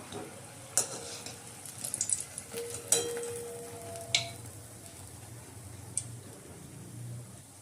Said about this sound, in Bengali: আর এইভাবে আমি বাকি বড়াগুলো ভেজে নেব।